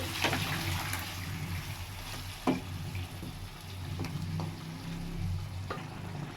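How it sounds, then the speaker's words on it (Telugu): Water poured into a pot of mutton cooking for Hyderabadi-style dum biryani gives a steady close hiss and bubbling sizzle, with a few sharp clinks of a utensil against the pot. "ఇప్పుడు దీంట్లోనే మనం ఇందాక ఆపేసి పెట్టుకున్న వాటర్ని దీంట్లో వేసేస్తున్నామండి."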